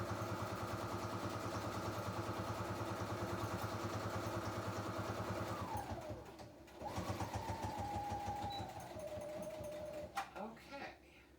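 A quiet sewing machine stitches around a paper insert for a journal, running steadily at a fast even whir, then slowing and stopping near the end, with someone talking over it.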